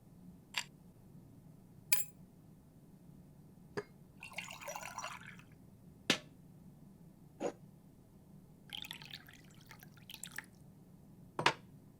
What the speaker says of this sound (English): I'd better pour myself some tea and join him.